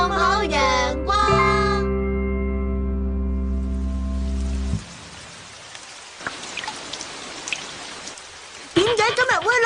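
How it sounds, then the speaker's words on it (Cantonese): In a Doraemon cartoon, rain falls in an even, hissing patter that follows a sung tune, with a voice speaking over it at the end. "點解今日會落雨㗎？"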